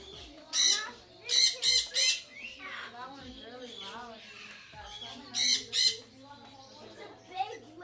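Several sharp, harsh squawks from large parrots at a bird farm burst out in clusters, with murmured talk and background noise between the calls.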